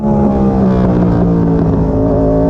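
A racing motorcycle engine screams at high revs on the Misano circuit, steady and loud with a strong harmonic whine, close by.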